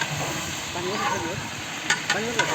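Marinated mutton for a kanduri feast at a temple fair sizzles steadily in a large pot, a continuous frying hiss with a few sharp clanks of stirring and faint voices in the background.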